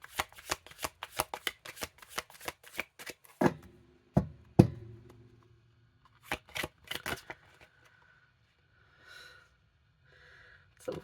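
A deck of playing cards being riffle-shuffled repeatedly up close, a quick run of crisp flutters followed by a few squared-up taps and soft handling noises, with pauses between bursts.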